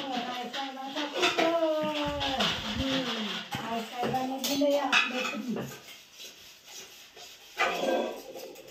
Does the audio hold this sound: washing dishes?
yes